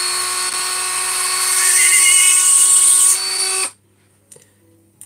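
A small high-pitched drill bores a tiny hole into the end of a spare rib for a mastiff sternum model, a loud steady whine for several seconds before stopping, followed by faint handling sounds.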